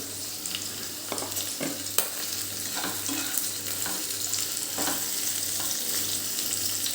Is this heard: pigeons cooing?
no